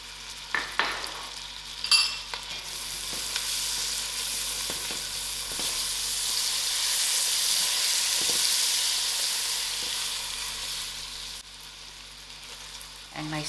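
Mixed frozen vegetables hit a hot pan of oil spiced with jeera and dhania powder, giving a steady close sizzle and hiss that swells and holds, with a few sharp stirring scrapes and clinks near the start and end.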